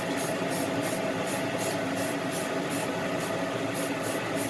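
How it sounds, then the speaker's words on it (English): Clear coat sprayed onto individual parts in short repeated bursts, a steady hissing spray pulsing roughly every half second, close and loud with no talk. "I just do a couple sprays on each individual part"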